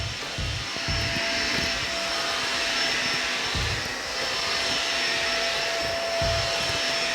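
A Shark Navigator self-cleaning vacuum cleaner runs with a constant high whine and airy rush, close and loud, with low thumping pulses beneath as it works over the floor.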